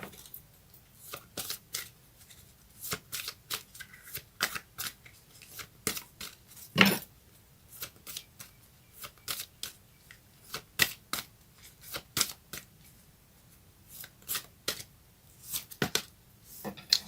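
Tarot cards are shuffled again and again in sharp, crisp riffles and flicks, with one louder snap partway through and brief pauses between bursts.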